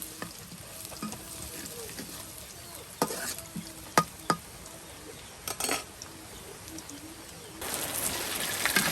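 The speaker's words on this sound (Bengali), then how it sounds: "এই যে এখন কিন্তু বাটা মশলা দিয়ে পেঁয়াজ কুচি একদম ভেজে নেওয়া হচ্ছে" Chopped onions fried with ground spice paste in a village kitchen: a continuous sizzle with sharp scrapes and knocks of a utensil stirring the pan, close by, with outdoor ambience and no talk.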